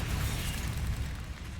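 A Bombarda spell explosion in Hogwarts Legacy gives a loud, dense, rumbling blast that fills the whole short moment with heavy low boom and noisy crackle.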